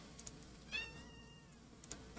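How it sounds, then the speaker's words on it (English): A pet cat gives a short, faint, strained meow in the middle, with small clicks before and after in a quiet room. "Cat is screaming."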